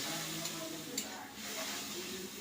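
Steady, faint sizzling hiss from a pan on the stove where fried cabbage is joined by a poured batter of sun-dried rice flour and water, a constant crackle with no clear pauses.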